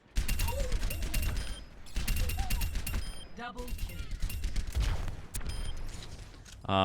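Soldier 76's rifle firing in the game Overwatch, sustained rapid bursts close and loud with brief pauses between them, over mechanical game sounds.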